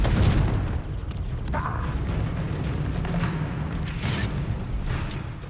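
Confringo and Flipendo spell blasts fired in Hogwarts Legacy, a run of heavy booms and bursts over a constant low rumble, with brighter crackling hits spaced through the span.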